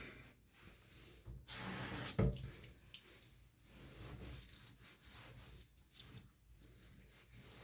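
Water runs from a tap while a face is washed at the sink: a steady wash of splashing flow with a brief louder surge, heard close with no talking.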